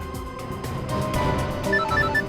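A phone rings on and on unanswered, its electronic ringtone repeating in short tonal pulses at a moderate level over a faint background hum, with no voices.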